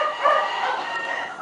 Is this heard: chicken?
yes